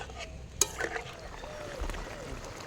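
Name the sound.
stirring and simmering cabbage curry with water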